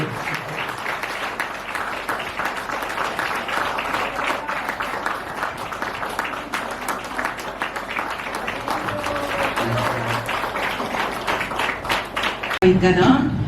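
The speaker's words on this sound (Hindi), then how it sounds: "और जोरदार तालियां बजाएंगे" Loud, sustained applause from the congregation at a prayer centre gathering, dense clapping rolling on for many seconds with voices heard over it.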